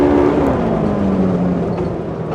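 A Polaris RZR XP side-by-side engine drones loud and close while driving, its pitch sliding downward as the engine eases off, with no one talking.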